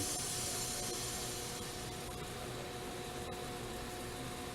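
A plasma system's vacuum chamber releases air in a steady rush of hissing, continuous and fairly loud, with no voices.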